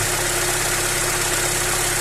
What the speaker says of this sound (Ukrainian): І від цього моменту плавно я кручу на збагачення і слухаю двигун